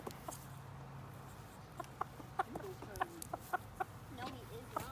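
A rooster clucks in short, scattered bursts at moderate distance over a low background hum, with faint voices nearby.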